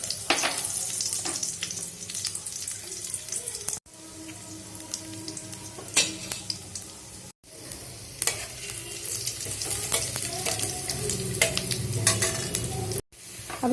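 Chopped garlic with cumin seeds and asafoetida sizzles and crackles in a hot frying pan, a steady close, busy frying hiss with small pops and brief breaks, no voices.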